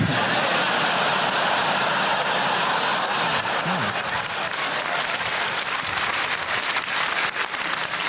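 A comedy club audience claps and cheers in a dense, steady roar of applause that fills the whole stretch, with no single voice standing out.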